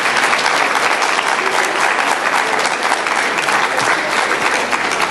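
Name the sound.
audience applause for closing keynote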